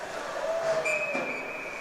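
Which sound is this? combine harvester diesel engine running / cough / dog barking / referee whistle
referee whistle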